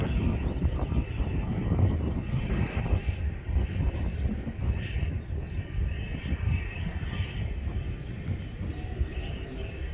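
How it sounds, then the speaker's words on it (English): A small propeller plane drones steadily at moderate distance near Milwaukee airport, a low rumbling engine hum with no voices. "It's these little putt-putt planes that get the job done."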